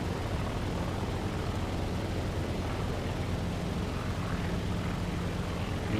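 Supercharged warbird piston engine in Microsoft Flight Simulator, a steady loud broadband drone and roar holding constant throughout, with no talking.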